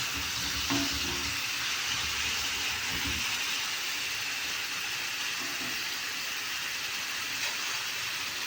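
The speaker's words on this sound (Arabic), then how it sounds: "هسه حمست صدر الدجاج بهذه الطريقة" Chicken breast fries in a pot with a steady, close hiss and sizzle that carries on without a break, plus a few soft stirring knocks near the start.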